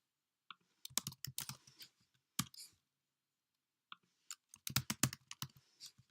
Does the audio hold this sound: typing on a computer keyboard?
yes